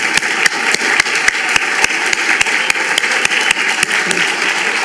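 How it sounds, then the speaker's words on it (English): Applause for parents at a Colorado American Chemical Society student event, steady dense clapping filling the room at close range, with a few sharper individual claps standing out through the whole stretch. "let's give a big applause to the parents"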